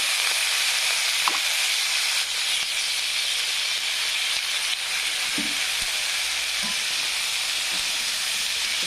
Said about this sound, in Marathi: गवारीच्या शेंगा मी अशा भाजण्यासाठी ठेवलेल्या आहेत तेल टाकून भाजून घ्यायचं